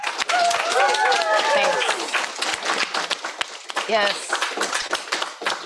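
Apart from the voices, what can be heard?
audience applause for Abel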